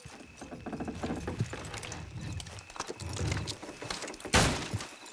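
Horse hooves clip-clop at a steady walking pace in Red Dead Redemption 2, fairly faint under ambient game noise, ending with a sharp, louder knock near the end.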